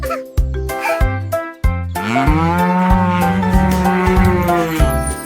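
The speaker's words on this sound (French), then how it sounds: "il meuglait de joie" A cow moos loudly several times, the last call long and drawn out, close by over faint background noise.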